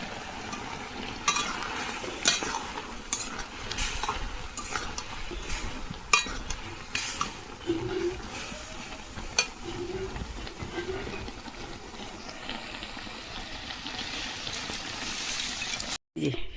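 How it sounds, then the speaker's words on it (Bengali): Tomato, potato and eggplant curry stirring and frying in a pot, a steady soft sizzle with scraping strokes of the spoon running continuously at moderate level. "সব মিশিয়ে টমাটো আলু বেগুন দিয়ে তরকারি আর এই যে শুক্তো রান্না করবো"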